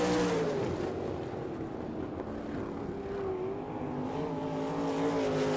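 Sprint cars from an NRA Sprint Invaders heat race at Rossburg, Ohio roar down the front chute, a loud, sustained, droning engine howl that stays steady throughout with no talking.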